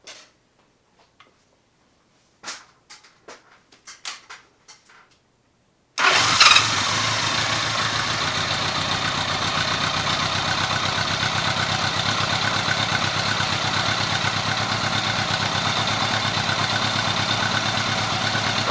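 A 1983 Honda Gold Wing motorcycle with a charging system fault gives a few clicks and ticks, then the engine catches and settles into a loud, steady idle that runs on evenly to the end.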